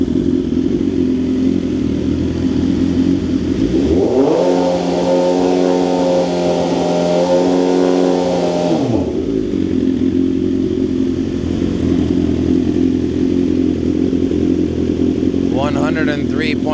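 A BMW S1000R motorcycle revs hard with its dB silencer opened: one loud, sustained rev climbs, holds for several seconds and drops back to a steady idle, recorded close up.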